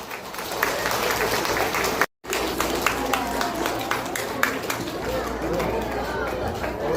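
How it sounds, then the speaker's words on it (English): Children applauding at a Grade-1 school assembly: a lively burst of many small hands clapping with background chatter and movement, briefly cut out for a moment before resuming at full strength. "Children, please welcome Miss Simi Grewal with a big round of applause."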